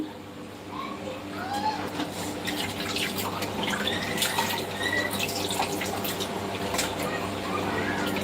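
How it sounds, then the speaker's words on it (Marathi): Water runs steadily from a tap with splashing and squishy rubbing sounds as tripe is scrubbed and washed underneath, close and continuous. "मस्त चोळून चोळून धुवायची नळाखाली."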